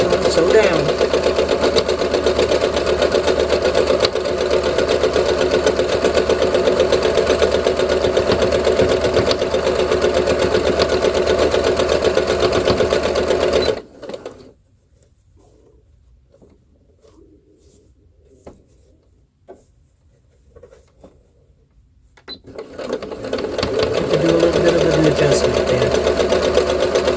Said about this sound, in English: Okay, and then I'm just going to sew down.